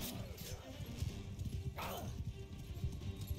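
A cavalry horse gallops in the video game Mount & Blade 2: Bannerlord, its hoofbeats a steady clip-clop over battle noise with a brief whinny-like cry, and a voice talks over it.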